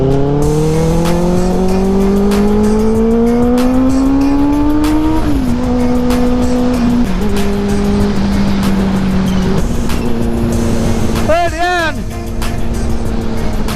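A KTM Duke 390 and a Benelli 600i motorcycle race, their engines revving loud and close in rising, sustained tones that shift as they accelerate, with a brief tire-squeal-like burst near the end and people talking over the engines.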